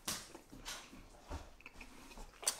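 Soft, milky Korean milk candy is chewed close to the mouth, giving faint, irregular wet chewing and soft biting sounds in an otherwise quiet room.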